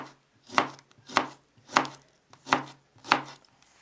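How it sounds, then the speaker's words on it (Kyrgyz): A knife cuts cucumber into thin strips for a crunchy salad, five crisp chops on a board, evenly spaced and close, with quiet gaps between them and no talk. "Бадырыңды дагы соломка түрүндө майдалап кесип алабыз."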